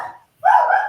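A dog gives a couple of short, close barks, a brief yip followed after a pause by a louder, sustained bark-like yelp.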